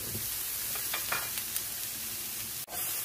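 Vegetables for a ratatouille-style tchaktchouka simmer in tomato juice in a pan, giving a steady soft sizzle throughout with a few faint stirring scrapes and a brief dip near the end; no voices.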